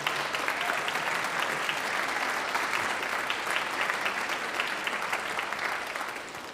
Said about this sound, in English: Let's have a big round of applause for all the stuff your parents have gone through to get you to this point in time